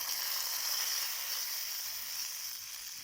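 Tempering sizzles and hisses as it is poured into cooked rice, a steady, fairly quiet bright crackle that fades slightly toward the end.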